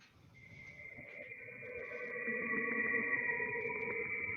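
An eerie recording of the planet Saturn: a faint, sustained tonal drone with steady high whistling bands, slowly swelling in loudness over a few seconds with no voices.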